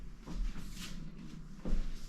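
Paneled closet doors in a clean, carpet-free house are handled, giving two soft knocks or thumps about a second apart over a quiet room.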